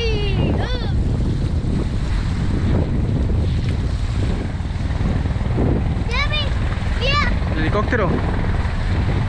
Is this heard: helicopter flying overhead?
yes